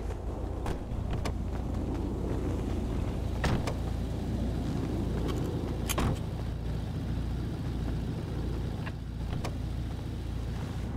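A truck engine hums steadily while driving, a constant low rumble with road noise and a few sharp clicks and knocks inside the cabin, close and continuous with no talking.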